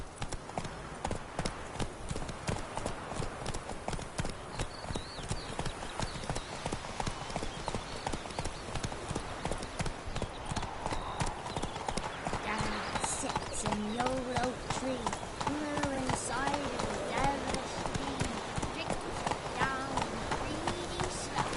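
Horse hooves gallop in a steady, rapid clip-clop on a dirt path in The Witcher 3 video game, continuous throughout under ambient game sound, with a voice speaking over the ride.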